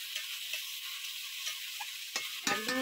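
Spiced meat being stirred in a pan, a soft steady sizzle with faint scraping strokes, then a couple of louder clanks of utensil against metal near the end, no talking.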